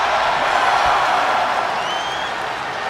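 Crowd at a wrestling event in a London arena, a steady, loud wash of cheering and murmur that holds evenly throughout.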